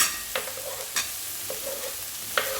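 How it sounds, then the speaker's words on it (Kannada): Chopped onions with curry leaves sautéing in a pan for akki tari uppittu, a steady close sizzle broken by a few scraping spatula stirs, with no voices. "ಹೆಚ್ಚಿಟ್ಕೊಂಡಂತಹ ಈರುಳ್ಳಿ ಹಾಕಿ ಚೆನ್ನಾಗಿ ಬಾಡಿಸ್ಬೇಕು"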